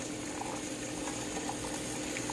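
A pot of broccoli rolls at a steady boil, with continuous close bubbling and hissing and no talk.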